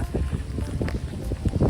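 Gusty outdoor wind buffeting the microphone on a muddy road before rain, a loud, continuous low rumble that surges in waves with no talk.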